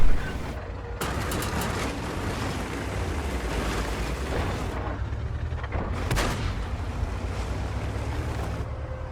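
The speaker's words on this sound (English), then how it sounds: "whenever to double fire, yes or no, to single shots or fire 2 shots in a row" Tank guns firing in World of Tanks, loud booming shots with sharp onsets near the one- and six-second marks over a steady low rumble of engine and battle noise.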